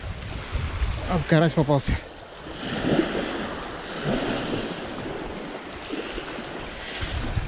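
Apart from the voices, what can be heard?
strong north wind at the lakeshore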